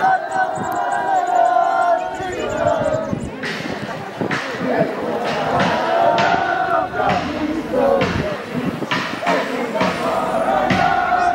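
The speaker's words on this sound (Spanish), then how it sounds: "Ahora estas fuertes palmas para Jevira." A crowd applauds at a folk dance contest in Challhuahuacho, with loud sustained clapping and shouting throughout and an announcer's voice over the top.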